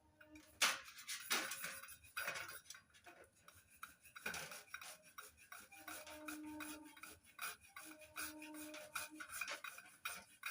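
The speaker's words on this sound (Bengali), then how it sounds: "এবার দুটো টমেটো গ্রেট করে নিচ্ছি গ্রেটারের সাহায্যে।" Two tomatoes rubbed over a hand grater while cooking a vegetarian potol and paneer dish, giving close, steady rasping strokes in an irregular rhythm, with no talking.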